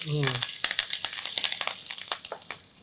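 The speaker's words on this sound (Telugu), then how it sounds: "ఆ తర్వాత కొద్దిగా కరివేపాకు. సో అన్నీ బాగా టప్లాడేవే" Curry leaves crackle and spit in hot oil already holding mustard seeds and cumin, a dense run of sharp pops and crackles that stays close and steady for a few seconds.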